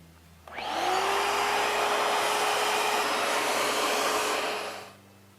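A vacuum cleaner picks up sanding dust during a boat gel coat repair, switching on with a rising whine, running as a loud, steady whoosh with a high tone, then powering down and fading out.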